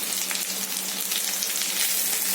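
Okra frying with shallots in a pan gives a continuous, even, close sizzle that holds steady throughout with no breaks.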